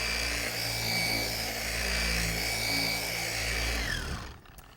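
A polisher runs steadily at a medium speed setting, working product into car paint in a garage with back-and-forth passes, a continuous loud whir that winds down and stops near the end.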